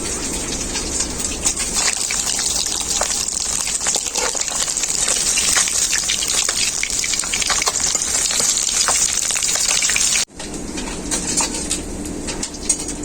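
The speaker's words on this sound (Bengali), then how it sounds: "মাংসের এক পিঠটা খুব ভালো করে ভাজা হয়ে গেছে আর এক পিঠটা পাল্টে নেব" Bata fish sizzling in mustard oil in a wok after being turned over: a continuous close, crackling hiss with small pops throughout, briefly dropping out before resuming at the same level.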